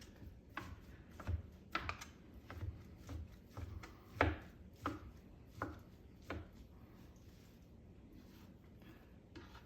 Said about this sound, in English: I got my barbecue chopped up